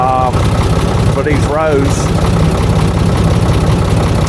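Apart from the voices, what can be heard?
tractor engine running while mowing stalks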